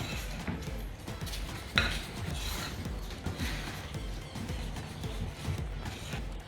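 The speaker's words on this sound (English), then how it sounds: "then just mix it together" Vegan banana pancake batter being stirred in a bowl, with a continuous soft scraping and clinking of a utensil against the dish over a low background rumble.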